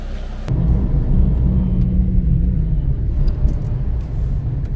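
A car engine starts with a sudden click and settles into a steady low rumble, close by, as the vehicle begins to move off.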